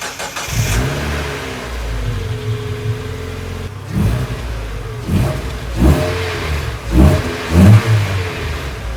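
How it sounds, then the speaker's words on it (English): A stock-exhaust Mazda Miata NB MX-5 starts from cold and settles into a rough idle, then gives several sharp, rising revs near at hand, loud and alone. "Let's get a quick cold start to check what she sounds like stock"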